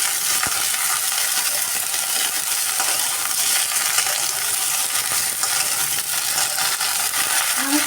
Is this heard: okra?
yes